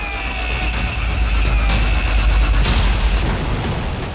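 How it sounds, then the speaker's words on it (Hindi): North Korean missile being fired, a loud, sustained broadband roar that rumbles and hisses steadily without pause for the whole stretch. "बटन दबा, मिसाइल फायर।"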